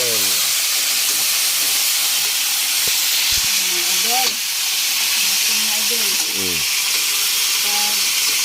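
Garlic sautéing in a hot pan gives a steady, close sizzling hiss that runs the whole time, while voices talk over it now and then.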